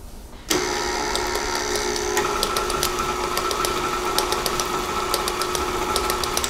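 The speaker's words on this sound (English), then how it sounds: "I'm just going to mix that again for only about 10 or 15 seconds just to mix all of those goodies" Electric mixer blending cranberries and walnuts into cookie dough: a motor switches on abruptly and runs as a loud, steady whirring hum with faint rhythmic ticking from the beaters, no talking.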